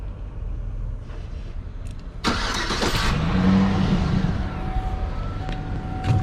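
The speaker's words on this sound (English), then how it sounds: "Start up the truck before it gets hotter." A 2003 GMC Sierra pickup, just fitted with a new water pump, cranks with a loud broadband burst and settles into a steady low idle, close by, with no talking.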